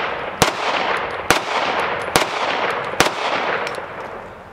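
Grand Power X-Caliber MK 23 pistol fires four sharp, evenly spaced shots, each a loud crack with a brief ring, over a steady hissy background.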